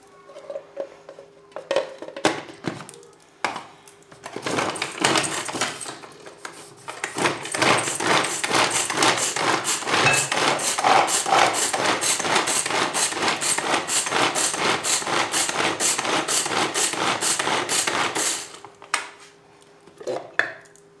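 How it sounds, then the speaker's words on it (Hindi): Radishes chopped in a hand chopper, a rapid run of plastic clacking and rattling that builds into a long continuous burst, preceded and followed by a few separate knocks. "मूलियों को हम चॉप करेंगे, थोड़ी थोड़ी सी डाल के चॉप करेंगे।"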